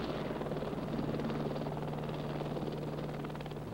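A helicopter flies low over the ground, its steady rotor thrum and engine drone continuous and fairly loud throughout, with no voices.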